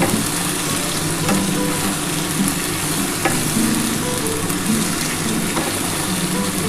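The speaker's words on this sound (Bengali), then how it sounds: "চাল কুমড়োটা একটু লাল লাল করে ভেজে নেব" Ash gourd pieces frying in hot oil make a loud, dense, continuous sizzle that holds steady throughout, close up and alone, with no speech.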